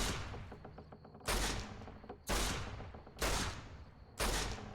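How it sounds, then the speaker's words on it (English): Gunfire in a video game, four loud, sharp broadband bursts roughly one second apart, each decaying into a rumbling tail over quieter background game sound. "No, stop shooting! Stop shooting!"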